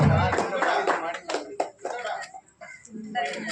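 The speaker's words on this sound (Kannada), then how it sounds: "ಎಲ್ಲ ಜೋರ ಚಪ್ಪಾಳೆ" Audience at a Ganesh festival prize ceremony clapping in a brief burst of scattered applause, mixed with people talking nearby.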